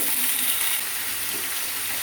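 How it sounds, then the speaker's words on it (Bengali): Potatoes dropped into hot oil for frying give a dense, steady hiss and crackle that holds at an even level throughout, close and fairly loud with no talking. "এবার এই তেলেতে আমি এই আলুগুলো ছেড়ে দেব।"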